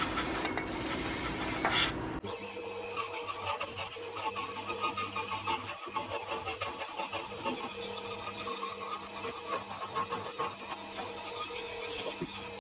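A blade saws through a metal part of a 90-degree drive gearbox, giving a continuous close rasping and scraping with no speech.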